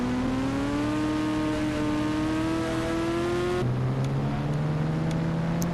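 A motorbike engine in a video game drones and whines steadily, its pitch climbing slowly before dropping abruptly partway through, then humming on at a lower tone.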